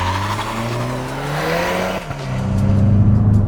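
A 2025 Volkswagen Jetta GLI launches hard in first gear, its engine note climbing steadily while the brand-new front tires chirp and squeal as they briefly lose grip, loud and close.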